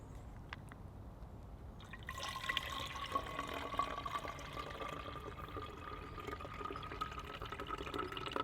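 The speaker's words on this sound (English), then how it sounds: "I'm going to pour it into the Nalgene." Water poured into a Nalgene bottle outdoors on a rainy survival overnight, a steady trickling fill starting after about two seconds and continuing evenly at moderate, close level.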